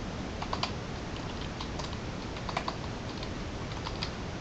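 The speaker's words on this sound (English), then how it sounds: "Okay, so let's say I type it out." Steady, continuous typing on a computer keyboard, close and clear, with dense rapid keystrokes and a few louder clacks scattered throughout, no voices.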